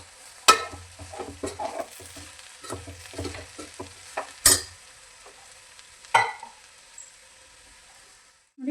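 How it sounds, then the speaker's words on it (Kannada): A spatula stirs sprouted horse gram with grated coconut in a pan after tempering, making a series of uneven scraping and clacking strokes, loud and close, with a light sizzle underneath and no talking. "ಎಲ್ಲ ಸಲ ಚೆನ್ನಾಗಿ ಮಿಕ್ಸ್ ಮಾಡ್ಕೊಳ್ಳಿ."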